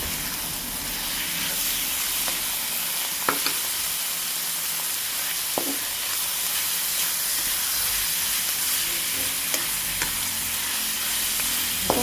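Steady sizzling and hissing of ground chicken sautéing in oil, with occasional light clinks of a utensil stirring the pan.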